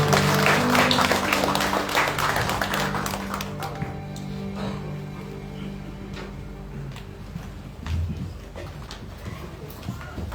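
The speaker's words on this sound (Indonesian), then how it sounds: "Tepuk tangan sekali lagi, ibu bapak, ayo kemari." A church congregation at a Sunday service claps loudly at the start, and the applause fades away over several seconds into quieter room noise with scattered taps.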